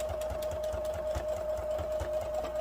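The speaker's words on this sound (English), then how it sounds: "I cut it out, and then I turn it and sew it, or turn it as it's sewing" Sewing machine stitching fabric for a gnome hat, a steady close whirr with a sustained tone and quick regular needle clicks, fairly quiet and alone.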